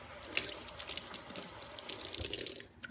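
Kitchen towel soaked in water at a sink, with close splashing, dripping and running water in irregular bursts that fade out near the end.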